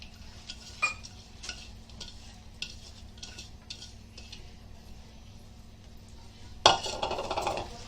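Masoor lentils stirred in a cooking pot, a spoon scraping with light intermittent clicks, then a louder, sizzling, clattering burst near the end; no talking.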